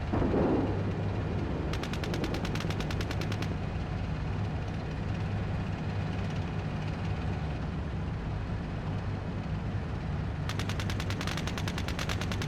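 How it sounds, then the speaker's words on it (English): Incoming machine gun fire in a combat exercise: two rapid bursts of closely spaced shots over a constant loud rumble of engines or radio noise, with a heavier boom at the start. "We're taking fire here."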